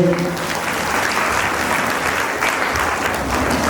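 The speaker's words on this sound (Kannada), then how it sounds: "ಜೋರಾದ ಚಪ್ಪಾಳೆ ಬರಲಿ" A festival crowd at a Shivananda Mahaswami jatra mahotsava in Bhairidevarakoppa claps loudly, a dense, steady wave of applause that carries through the whole stretch without pause.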